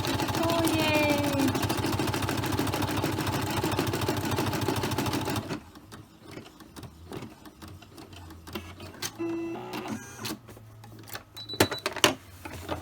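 A home embroidery machine stitches out an in-the-hoop key fob with a fast, even, rattling whir. The whir stops abruptly midway, leaving quieter clicks and handling noises.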